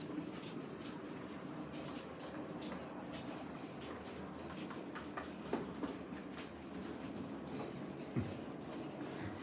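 A model 00 gauge locomotive runs on a layout's track with a steady, close rumble and faint rail clicks, plus a few sharp ticks, and no talking.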